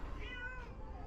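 A cat meows once, a clear drawn-out rising and falling call in a rural village setting near a riverbank, heard over a steady low outdoor rumble.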